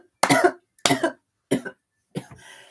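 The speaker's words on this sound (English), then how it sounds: "Pocahontas made me cough." Four distinct coughs from a person, loud and close, each separated by short pauses, the last trailing into a breathy exhale.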